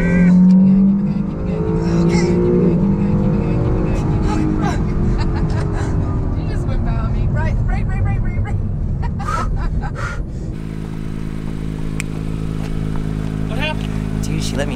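An Acura NSX roars and revs hard at close range on a race track, engine pitch rising and falling, then settles to a steadier drone while people talk.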